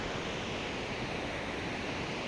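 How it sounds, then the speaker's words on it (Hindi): Waterfall in the Darma Valley, Uttarakhand, a steady, dense rush of falling water heard up close, continuous and alone with no talk. "दिस इज़ द होल झरना।"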